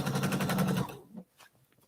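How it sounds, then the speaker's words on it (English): A sewing machine runs in a fast, steady burst as it stitches a quilt border up to a pin, then stops, leaving faint handling noises close by. "I'm going to sew up to the edge of my pin"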